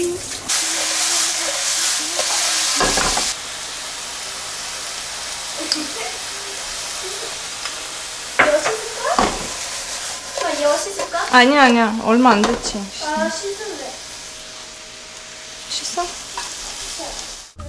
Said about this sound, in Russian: Теперь жарить их надо.